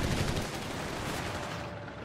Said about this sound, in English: All upgraded with these light machine guns.